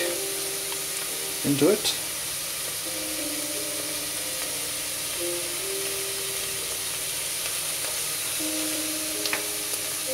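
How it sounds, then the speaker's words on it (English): Chopped onion, with garlic, sizzling in extra virgin olive oil as a steady, close frying hiss, with a short burst of stirring and a few brief spoken words near the start. "Heat about 1 onion in some extra virgin olive oil or vegetable oil, whichever you prefer."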